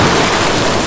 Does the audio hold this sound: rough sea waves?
yes